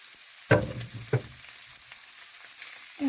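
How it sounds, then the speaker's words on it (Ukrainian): Two sharp bursts of sizzling as pieces of pork crackling hit a hot pan, followed by a quieter crackle of frying. "Я смажу шкварки"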